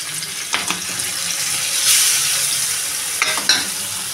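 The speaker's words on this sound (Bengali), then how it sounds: "এবার মাছগুলো আমি এক এক করে কড়াতে দিয়ে দেবো, এক এক করে কড়াতে মাছগুলো দিয়ে দেবো।" Thick-cut pieces of salt-and-turmeric-rubbed silver carp frying in oil in a wok, a steady close sizzle with a few stirring scrapes and brief bursts of crackle.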